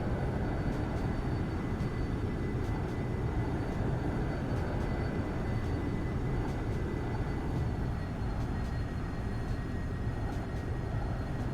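Steady, dense roar of a fast aircraft in the X-Plane 11 flight simulator, a continuous broadband rush holding evenly loud for the whole stretch with no voices over it.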